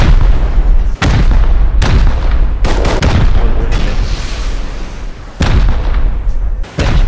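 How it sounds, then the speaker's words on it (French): Rocket launcher fire and explosions in the survival game Rust: a rapid series of loud, heavy booms and blasts, with several sharp impacts rising above a dense, continuous rumble of combat. "Ouais, je suis en train de rocket."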